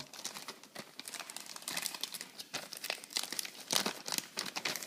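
Plastic packaging holding the instructions for a Star Trek classic communicator crinkles and crackles in irregular close bursts, steady handling noise without talk.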